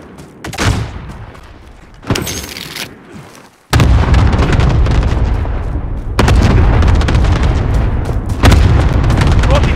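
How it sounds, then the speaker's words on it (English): Cluster strike explosions in Warzone: a few scattered booms and pops, then a loud, sustained barrage of close, rumbling blasts that fills the rest of the moment. "Allied cluster strike inbound"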